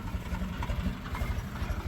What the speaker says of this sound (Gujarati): ટ્રેક્ટર સામે પહોંચ્યું છે